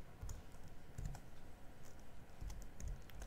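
Typing on a computer keyboard while entering a Python command, a quick run of soft, close key clicks with a few heavier thumps in between, faint and continuous.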